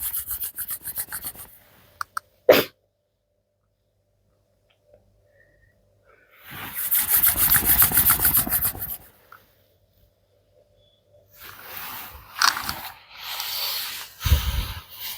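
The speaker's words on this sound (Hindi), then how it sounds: "आप अपने हाथों को इस भांति रगड़ेंगे तो आपकी सुस्ती भाग जाएगी" Palms rubbed briskly together during a yoga breathing session, three close bursts of dry friction with silent pauses between them, no talk.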